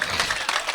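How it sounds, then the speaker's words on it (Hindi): Brief burst of dense audience applause at a mushaira poetry gathering in Sanawad, a steady wash of many hands clapping together with no pauses. "जोरदार तालियां इस मुशायरे के लिए बजा दीजिए यार"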